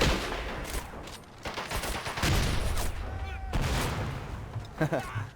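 Gunfire in the World War II strategy game Men of War: Assault Squad 2 comes as dense, overlapping shots and bursts with a whistling round, loud and continuous, while someone speaks over the battle.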